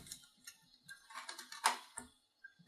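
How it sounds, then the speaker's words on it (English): Small metallic ticks and scrapes from a screwdriver undoing screws on an Intel 386 computer case. They come as irregular, close, quiet clicks with brief pauses between them. "This one is being unscrewed because I just did the floppy drive in it."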